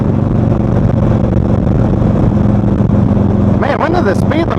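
A Harley motorcycle cruises in 7th gear, its engine a steady, loud, dense drone from a helmet-mounted position, with wind rush throughout and a voice speaking briefly near the end.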